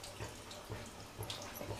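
Toor dal being rinsed in water in a home kitchen, soft rhythmic swishing and sloshing repeating about every half second, quiet and close with no talking.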